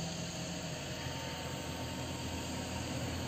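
A Jaguar XKR cabriolet's 380-horsepower V8 runs steadily at idle, a constant low rumble with a faint whine, heard alone without talk.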